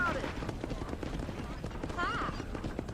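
Horse hooves clip-clopping on a town street in Red Dead Redemption while horses pull a carriage, a quick irregular patter under ambient game noise, with a faint whinny-like cry near the end.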